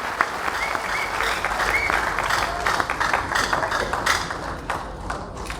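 Audience applause fills a medical association event in Allahabad, a steady dense patter of clapping hands that carries on without a break across the whole stretch, with some sharper individual claps rising out of the crowd.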